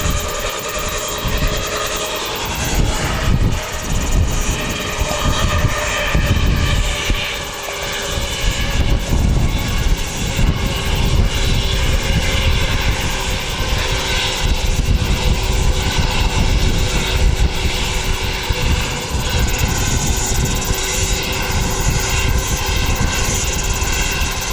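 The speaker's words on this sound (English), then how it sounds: "it's an A320." An Airbus A320 at Wellington Airport fills the air with a loud, continuous jet engine roar and whine, holding steady and close throughout with no voices.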